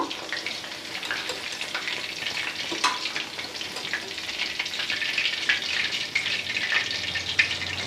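Chicken pakoras deep-frying in hot oil, Andhra style, giving a steady close sizzle with scattered crackles and pops and occasional clinks and stirring, no talk.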